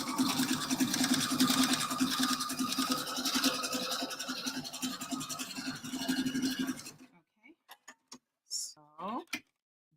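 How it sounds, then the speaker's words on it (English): A sewing machine runs steadily for about seven seconds, stitching forward and backward along a fabric edge, with a continuous close mechanical hum and rapid needle ticking, then stops, leaving a few faint clicks and handling noises. "the machine is going forward and backward"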